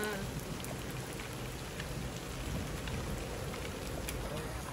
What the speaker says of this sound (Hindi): अभी तो खड़े हैं बारिश की वजह से अंदर।